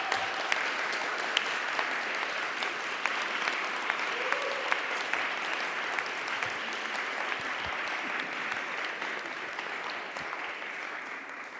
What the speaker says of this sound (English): give them a big applause and appreciate that